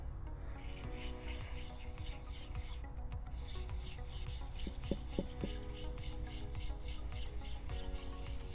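Steady, rhythmic rasping of 800-grit sandpaper rubbed by hand across a hard stone surface during polishing, close and continuous, with a few faint taps partway through.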